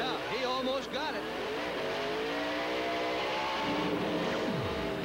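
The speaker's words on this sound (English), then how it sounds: "You could hear the rear end chattering where the brakes locked up." NASCAR Cup race car at Rockingham in 1999 locking its brakes while entering pit road, engine roaring then dropping in pitch as the rear end chatters, heard moderately loud over broadcast crowd and track noise.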